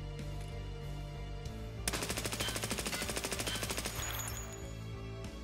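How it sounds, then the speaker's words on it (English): Suppressed VSS rifle firing a sustained full-auto burst in Escape From Tarkov, a rapid even rattle of about two dozen shots lasting close to three seconds over a steady ambient hum, loud and near. "Push over to full auto. You can see there's pretty much no jump in the recoil."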